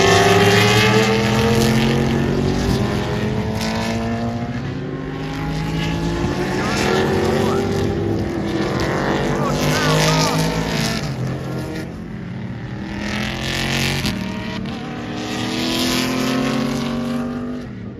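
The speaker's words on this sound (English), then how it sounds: "these Trans Am Mustangs sound insane" Trans Am Mustang race cars roar past at a racetrack, with loud engine notes rising and falling as several cars sweep by one after another. The engine sound carries on throughout.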